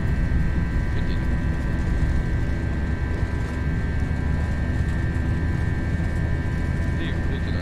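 The jet engines of an FSLabs A321 at takeoff thrust in a flight simulator give a steady, loud roar with a constant whine, unbroken throughout, with voices faintly beneath.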